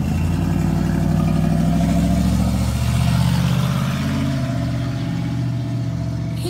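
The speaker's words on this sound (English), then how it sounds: "It's a lot of cars today because the garage sale's going on." Cars go by on a residential street during a garage sale, making a steady, fairly loud low engine hum and tire rumble that swells and eases slightly without a break; no one talks.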